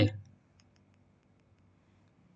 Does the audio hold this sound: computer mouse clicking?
yes